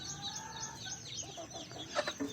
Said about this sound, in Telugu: మన ప్యూర్ నాటు పిల్లలు ఇవి